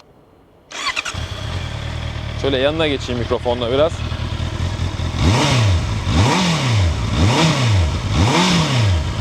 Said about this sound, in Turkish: Bir sesini duymayalım mı motorun? Buyurun bir 4 silindir.